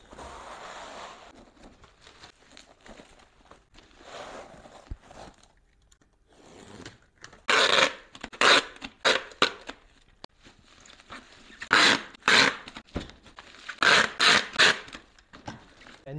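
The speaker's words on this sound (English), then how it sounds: "Bubble wrap this right now." Bubble wrap being wrapped around a package for shipping: soft rustling and handling at first, then several loud bursts of crinkling and plastic crunching in quick clusters, close up with no talking.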